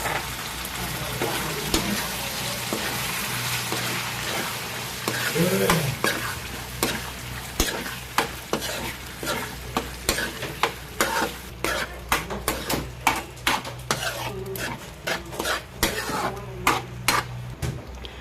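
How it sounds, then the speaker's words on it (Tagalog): Tomato sauce for homemade spaghetti sizzling in a pan while a utensil stirs it, steady frying hiss broken by frequent sharp scrapes and clinks against the pan, close by with no talk. "Lagay na natin yung ating tomato sauce"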